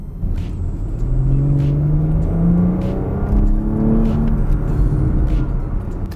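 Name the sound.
Porsche Panamera Sport Turismo engine with Porsche Sports exhaust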